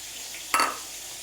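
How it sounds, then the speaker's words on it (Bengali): Pointed gourds (potol) frying in oil in a pan, a steady sizzle punctuated by one brief sharp scrape or stir of a utensil midway. "এখানে দেখো পটলগুলোকে ভেজে নিচ্ছি"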